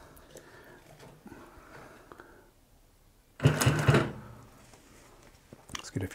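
An industrial compound feed walking foot sewing machine stitches through layers of denim around the bottom of a jeans leg in one short loud burst of a few stitches, with quieter workshop noise and faint talk before and after.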